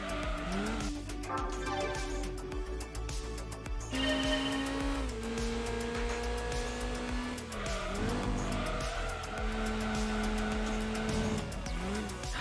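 Race car engines in the PlayStation racing game Gran Turismo 2 hold steady pitches and shift between gears, with tire squeal and skidding mixed in, continuous and moderately loud with no talk.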